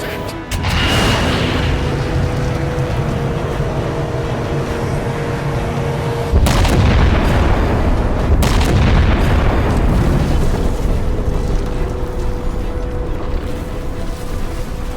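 Artillery strike firing for effect in the Halo 4 video game, a heavy booming blast followed by a second big impact partway through, with deep rumbling explosions and a sustained roar filling the whole stretch.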